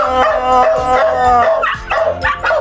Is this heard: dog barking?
yes